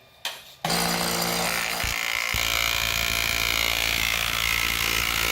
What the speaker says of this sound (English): I finally got the Maka, whatever it is, the chisel mortiser working.